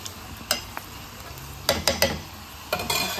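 Onion browning in a hot pan gives a steady sizzle, broken by several sharp scrapes and clinks as it is stirred, close by and with no talking.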